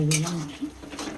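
A spatula stirs poppy seed paste (posto) with a little water and sugar in a pan, giving a brief scraping, swishing sound close by for about a second.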